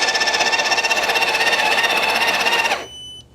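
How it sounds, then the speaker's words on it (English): The built-in grinder of a Breville Barista Touch BES880BBS espresso machine grinds coffee with a loud, close, steady whirring buzz that stops abruptly near the end, leaving a faint hum. "So I'm going to put it into the grinder and press the grind button."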